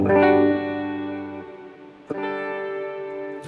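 Sustained guitar chords ring out with a wide, washy reverb tail that lingers and decays between strums, alone without any voice.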